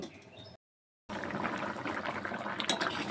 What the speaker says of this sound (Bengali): তরকারির ঝোলটি ফুটে গেছে, অনেকটা ঝোল টেনেও এসছে